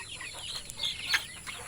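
A native hen clucking nearby on a farm, a short run of soft, breathy clucks in quick succession, close and moderately quiet.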